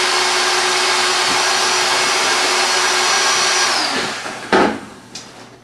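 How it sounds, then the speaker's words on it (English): Electric air pump inflating a cover, a steady loud motor whine that holds for about four seconds, then winds down and stops with a couple of clunks. "Turn on your pump. You're just gonna top it off."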